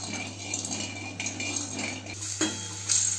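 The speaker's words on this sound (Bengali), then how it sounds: "নুন আর হলুদটা ভালোভাবে একটু নাড়াচাড়া করে মিশিয়ে নেওয়া হচ্ছে।" Salt and turmeric being stirred into banana slices in a bowl, with soft scraping and a few light metallic clinks of a utensil, close and quiet over a steady background hum.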